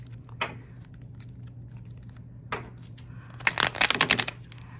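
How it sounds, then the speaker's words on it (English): Rider-Waite tarot cards being shuffled close by: two quick riffles separated by pauses, then a longer rapid flurry of shuffling over a steady low hum. "I'm going to go and shuffle these Rider Waite cards"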